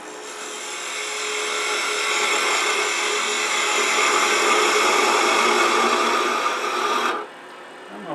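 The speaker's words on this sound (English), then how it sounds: "I'm going to switch to a spindle gouge." A spindle gouge cuts wood spinning on a lathe for a Nordic gonk ornament: a steady, loud, hissing scrape that holds for about seven seconds over a motor hum, then stops suddenly, with no talking.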